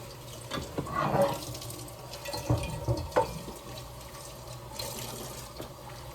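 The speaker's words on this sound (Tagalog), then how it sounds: "hugas tayo ng plato" Dishes being washed under a running kitchen faucet, a steady moderate stream of water with occasional clinks and splashes close by, no talking.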